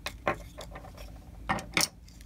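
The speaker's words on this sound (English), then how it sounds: "I'm screwing it in tight." A screwdriver drives a larger screw into a unit during assembly, giving a few short ratcheting, gritty turns in separate bursts, close and fairly quiet.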